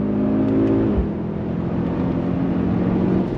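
A 2024 Mercedes-AMG GLS 63 SUV accelerates hard from a rolling start in first gear, a loud close engine roar that climbs in pitch and holds strong with no speech.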